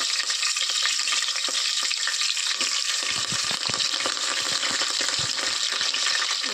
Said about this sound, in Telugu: ఉల్లిపాయలు పచ్చిమిర్చి వేస్తున్నాను. కొద్దిగా కరివేపాకు కూడా వేసుకుందాం.